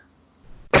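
A single sharp, loud cough bursts out near the end after a quiet moment, close and dry.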